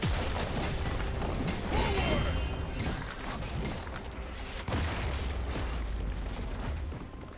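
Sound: turret destroyed in the video game League of Legends

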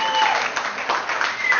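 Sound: audience cheering and applauding

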